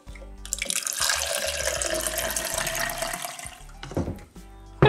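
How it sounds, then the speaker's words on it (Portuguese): Water pours steadily into a glass for an ice-water cup, a close hissing, splashing stream for several seconds that tapers off, followed by a short clink and knock. "Então vamos pegar um copo de água gelada."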